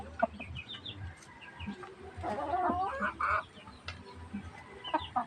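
A hen, the mother of a single surviving chick among farmyard fowl, clucks repeatedly nearby in short, uneven bursts, with a louder run of clucks in the middle against faint outdoor background noise.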